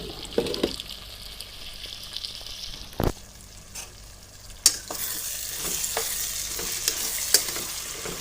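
Potato sabzi fries in a pan with a close, steady sizzle, broken by a sharp clank and a lid being lifted, after which the frying grows brighter and louder.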